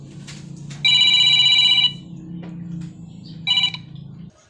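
A telephone rings nearby in electronic trilling bursts, one long ring followed by a shorter one over a low background hum.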